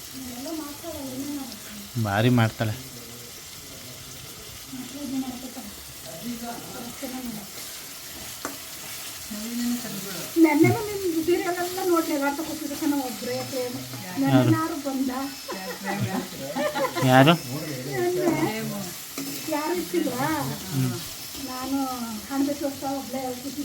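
Onions fry for Sakleshpur biryani in a home kitchen, a sizzle and stirring clatter running beneath frequent nearby talk and some watery splashing.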